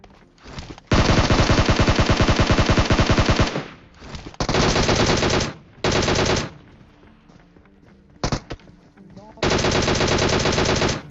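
Loud sustained bursts of automatic gunfire in the PUBG battle royale game, several long rapid-fire volleys separated by brief pauses and a few shorter bursts, close and dominant.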